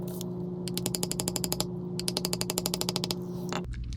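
A leather bevel tool is struck rapidly with a mallet while beveling tooled lines on leather. It makes close, crisp tapping in quick, even bursts over a steady low hum.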